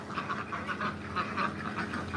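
Ducks quacking on a farm where chickens and a couple of dogs are also kept, a steady overlapping chatter of repeated calls at moderate distance with no talk.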